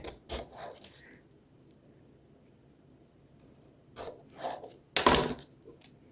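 Knife cutting through a round raw potato on a board for au gratin, three separate crisp slicing strokes spaced out, the last one loudest, with quiet pauses between.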